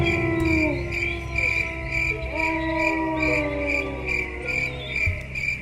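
Crickets chirp steadily in a continuous pulsing trill, loud and close, over a low droning background with no talking.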